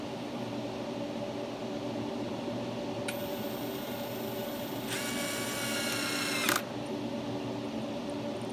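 An electric power tool runs in two short bursts, a high whirring drive followed by a louder ratcheting spin, while engine parts are assembled on a Chevrolet Trax Crossover during a DIY oil and filter change, over steady background hum.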